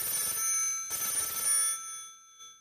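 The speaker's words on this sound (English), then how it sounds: "The following night, Peterson got a phone call" Telephone bell ringing indoors, two loud bursts separated by a brief gap, then fading into silence with a faint final chime.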